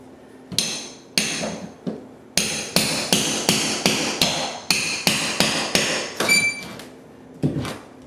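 A hammer works on nails in a wooden floor joist during floor repair, with about a dozen sharp, close knocks, some in quick succession and others after short pauses, and no talking.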